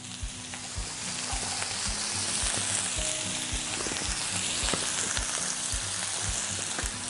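Sliced oyster mushrooms fry with softened shallots in a hot pan, giving a loud, steady sizzle that never lets up, with light scraping and stirring noises close by.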